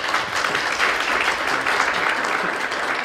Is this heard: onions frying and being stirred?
no